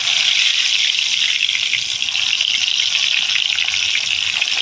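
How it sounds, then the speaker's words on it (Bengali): Eggplant pieces frying in hot mustard oil, a loud, continuous hissing sizzle that stays even and close from start to finish with no voices. "বেগুনগুলো ভালো করে ভেজে নেব।"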